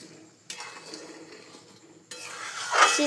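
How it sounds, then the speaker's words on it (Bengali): Stirring a vegetable curry with water and sugar in a pan: soft scraping and clinking of a utensil against metal, with a faint simmer, in two short bursts separated by a quiet gap. "চিনি দিয়ে একটু নেড়ে নিই"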